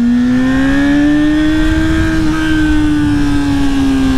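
A Honda Hornet motorcycle engine roars loud and close at a steady high pitch, rising and falling slightly as it holds speed on a road. No voices are present.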